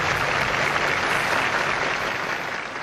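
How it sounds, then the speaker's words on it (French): Sustained applause from an audience at a French stage show honouring famous women, a dense, steady wash of many hands clapping that holds at full strength throughout and eases slightly at the very end. "Recevez ces applaudissements"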